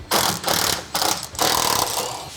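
A hand ratchet loosening 13 mm top strut bolts on a 2021 Tesla Model 3 during a coilover install, rapid clicking pawl in three quick bursts with short pauses between, close and clear.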